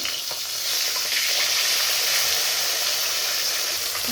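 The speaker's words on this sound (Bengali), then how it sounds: "মাছগুলোকে উল্টে দিব।" Fish frying in oil in a wok after being flipped, a continuous loud sizzle with faint scraping touches, close up and without talk.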